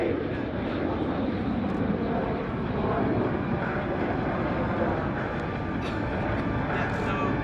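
An L-39 jet at a Navy airshow pulls into a vertical climb, its steady broadband engine roar filling the air continuously, with an announcer's voice running over it.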